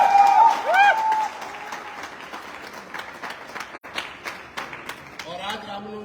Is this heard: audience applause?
yes